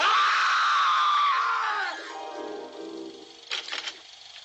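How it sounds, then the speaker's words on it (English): Screaming from the horror film The Tingler: a long, loud, sustained shriek that fades after about two seconds into softer noisy sounds and a few short bursts. "I turned it up just then, just so the screaming would be louder, because screams should be loud."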